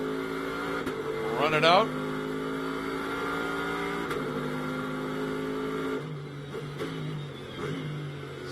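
A Blancpain GT World Challenge race car at Las Vegas Motor Speedway, its engine droning loud and steady from on board with gear-change pitch shifts, while a commentator speaks briefly over it.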